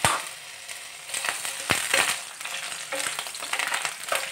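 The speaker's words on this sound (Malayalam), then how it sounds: "ഇതിലേക്ക് ഞാനിവിടെ അരിഞ്ഞു വെച്ചിരിക്കുന്ന വെണ്ടയ്ക്ക ചേർത്ത് കൊടുക്കുകയാണ്" Chopped okra fries in hot coconut oil for sambar, a loud close crackle and sizzle broken by sharp scraping stirs, with no talking.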